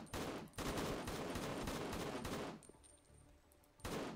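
Rapid automatic gunfire from a Roblox shooter game, a dense sustained burst of shots for about two and a half seconds, then a quieter lull before another loud burst starts at the end, with no talking.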